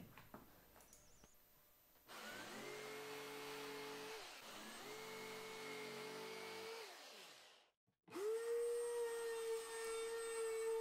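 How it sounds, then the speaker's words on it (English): A jigsaw cuts handles out of pallet wood with a loud, steady motor whine that runs, winds down, falls briefly silent, then starts again close by. "start cutting the handles out with my jigsaw"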